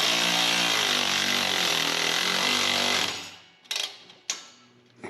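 Power tool driving bolts on the exhaust flange of a Revel aftermarket exhaust on a Toyota or Lexus truck: a loud, steady buzzing whir runs for about three seconds and then stops, followed by two short bursts.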